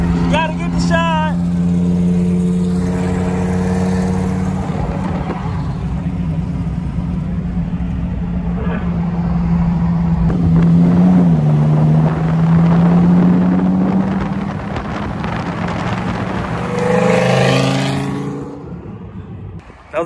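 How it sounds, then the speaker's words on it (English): Dodge Hellcat cars in roll races, with loud engines droning and rising in pitch as they accelerate away, wind buffeting the microphone, and people talking and shouting over the noise. "right now we doing rolls with M-Way and Kareem"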